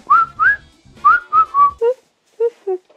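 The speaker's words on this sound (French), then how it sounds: "Je le dis en sifflant" A person whistles a short, bright melody: about five rising and sliding notes, then a few lower, softer notes after a pause. The whistling is close and clear, with no talking.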